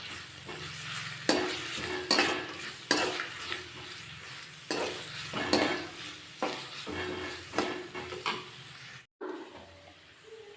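Onions with ginger-garlic paste fry in a pan, soft sizzling broken by repeated scraping strokes of a spoon stirring, fairly quiet, with a brief gap near the end.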